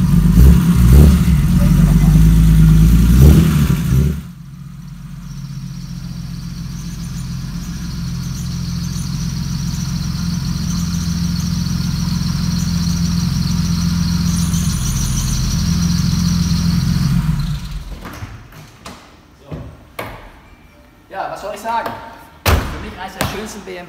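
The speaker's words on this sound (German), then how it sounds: "der Motor läuft, alles super" A BMW 2800 CS engine idles steadily and fairly loud for much of the clip, preceded by a burst of louder noise and followed by clunks and thumps.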